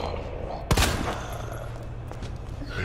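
Gunfire in the survival horror game Resident Evil 2, playing as Claire on hardcore difficulty: one sharp, loud shot cracks out, then fainter shots follow later, over a steady game background.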